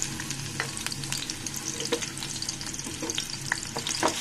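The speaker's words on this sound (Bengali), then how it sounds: "এরপর যে তেলটা গরম হয়ে গিয়েছে, এখানে আমি পেঁয়াজ কুচি রসুন কুচি একসাথে দিয়ে দিলাম।" Chopped onion and garlic fry in hot oil for a ridge gourd curry, giving a steady bright crackling sizzle with scattered pops and stirring, close and continuous without any talk.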